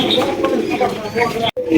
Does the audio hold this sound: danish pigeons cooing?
yes